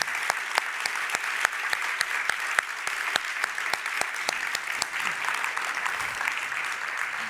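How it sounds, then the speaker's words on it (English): Conference audience applauding after a keynote talk at an academic sustainability conference, steady many-handed clapping with distinct sharper claps, sustained and fairly loud throughout. "it is a huge round of applause to those people who work in that way"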